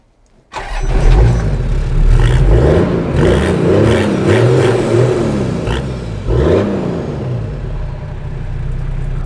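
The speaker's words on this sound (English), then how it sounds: "kick the 1HZ turboed engine in the guts and have a listen" A turbocharged Toyota 1HZ diesel engine in a Land Cruiser starts and is revved hard, a deep loud rumble that rises and falls through several surges with a turbo whistle sweeping over the revs, close up and with no talk.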